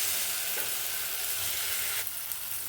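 Cashew paste goes into a sautéed tomato masala for a vegetarian potato and pointed gourd korma, giving a steady close frying hiss that brightens and grows sharper near the end.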